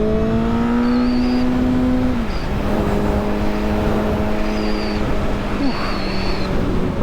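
A Suzuki GSX-R motorcycle with a Pipeworks exhaust, over 100,000 miles old, drones steadily at a constant engine note, loud and close, with a slight drop in pitch partway through and no talk.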